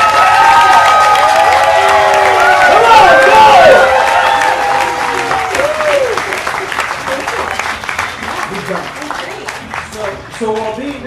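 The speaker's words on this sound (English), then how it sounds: "good round of applause for Sarah" A crowd applauds and cheers for a contestant on stage with a chef at the Bite of Seattle food festival, loud sustained clapping at first that slowly thins, with voices and whoops scattered through it.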